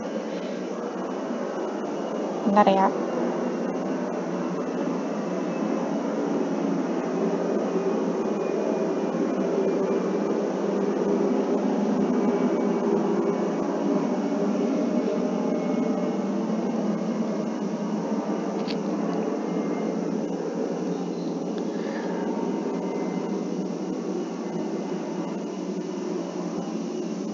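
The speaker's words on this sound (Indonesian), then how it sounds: "Aduh, ada suara pesawat nih." An airplane passes overhead as a steady broadband roar, a continuous mid-level rumble lasting the whole stretch with a brief voice speaking near the start.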